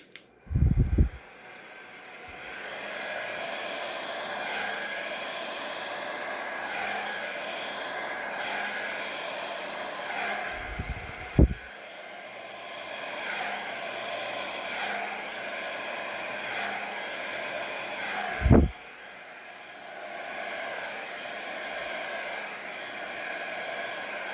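A hair dryer set on low blows across poured acrylic paint in a Dutch pour, a steady close whooshing drone that lasts throughout, broken by a few short thumps and knocks.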